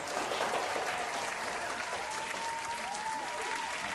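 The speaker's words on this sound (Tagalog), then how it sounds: "gusto niyo pumalakpak" Steady applause from a podcast studio audience or staff, dense and even for the whole stretch, with faint murmuring voices mixed underneath.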